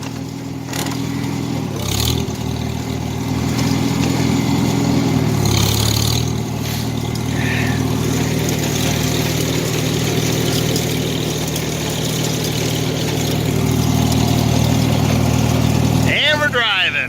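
A Farmall H tractor engine chugging steadily while the tractor is driven, loud and continuous with a slight dip in pitch early on, a person talking over it.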